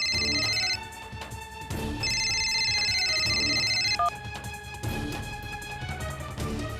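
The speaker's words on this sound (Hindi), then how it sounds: "राहुल का फोन है।" A telephone ringtone plays loud and close in a home scene, a repeating electronic melody with bright tonal bursts that stop and start, with no talking.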